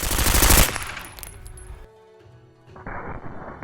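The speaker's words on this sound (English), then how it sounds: "what we are using is an MP5 with a suppressor, firing subsonics" A suppressed MP5 fires subsonic rounds: a loud burst of muffled shots up front, then metallic clinks and quieter thuds.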